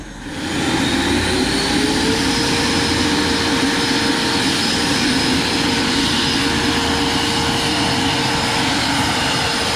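Electric ducted fan of an RC MD 600N model helicopter running at reduced power, a loud steady whine with a tone that rises briefly then holds, continuous and close throughout.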